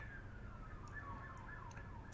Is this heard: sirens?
yes